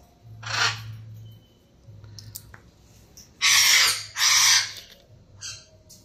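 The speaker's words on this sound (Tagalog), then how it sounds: "Good bird, Kiwi." Pet parrots squawking indoors, several loud harsh bursts, two close together near the end, over a low steady background hum, no speech.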